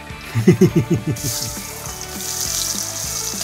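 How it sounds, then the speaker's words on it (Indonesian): Shallots and garlic sizzle in a hot frying pan, a loud broadband hiss after a quick run of low knocks, steady and close throughout. "Tumis bawang merah dan bawang putihnya, kemudian tambahkan tomat."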